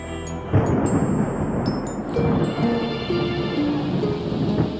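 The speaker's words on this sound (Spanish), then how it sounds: "una violenta tormenta provoca un corrimiento de tierras" A violent thunderstorm with a constant wash of heavy rain and low rolling rumbles of thunder, with some music-like tones layered over it.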